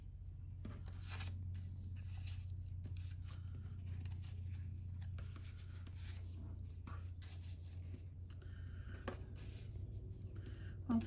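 Scissors snip and rustle through paper scraps in short, quiet, irregular cuts close by, over a low background hum.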